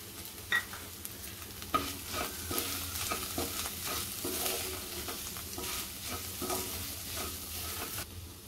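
Tempering sizzling steadily in a pan as a pinch of turmeric is added while making pithla, with a couple of sharp clinks near the start and continuous frying crackle throughout, close and fairly quiet.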